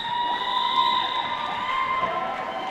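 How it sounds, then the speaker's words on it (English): A crowd cheers at a competition with bright sustained shouts and whoops. The sound is a continuous, fairly loud roar with no pauses. "there is much cheering going on in the crowd"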